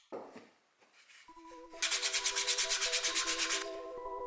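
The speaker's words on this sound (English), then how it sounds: "Sanding and painting." Rhythmic back-and-forth sanding strokes on a 3D-printed Halloween decoration, a dozen or so quick rasping passes, close up, over a faint tonal hum.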